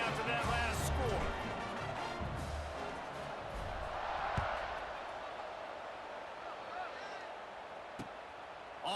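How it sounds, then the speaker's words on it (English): A stadium crowd in College Football 26 buzzes as a steady, distant roar, with a few sharp knocks and thuds scattered through it. "this crowd is buzzing after that last score"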